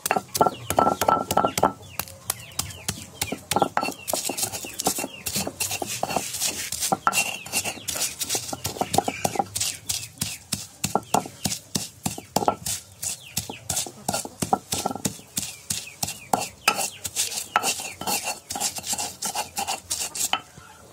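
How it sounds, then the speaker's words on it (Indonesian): Garlic, salt and MSG ground together in a stone mortar while making taro croquettes, a steady rhythmic run of close scraping and pounding strokes with light kitchen clatter and no talking. "Kita ulek ini ya, ada sedikit micin, garam, dan 3 siung bawang putih."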